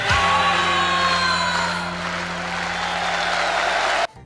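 Stadium-style crowd applause that sounds artificial, a steady wash of clapping and faint cheering carrying evenly for about four seconds before cutting off abruptly.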